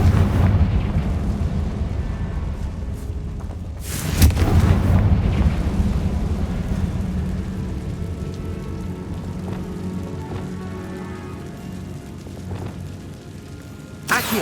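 Confringo blasting curse in Hogwarts Legacy tearing through a tomb, a sharp heavy explosive blast midway with crackling debris and rumbling tail, another smaller burst at the end, over steady game ambience.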